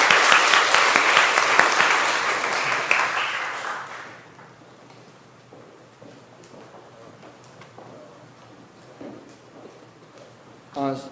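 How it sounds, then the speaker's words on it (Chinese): A church congregation applauds during a Taiwanese-language service, loud dense clapping that fades out after about four seconds, followed by quiet room noise and a person talking. "好，我们再一次掌声"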